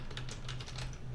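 A password is keyed in on a computer keyboard during a Windows 11 setup, a quick close run of light, crisp key taps with no voices.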